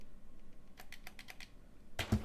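Buttons on a PS5 DualSense wireless controller click in a quick run of about six light, sharp taps, followed by two louder, fuller presses close to the mic.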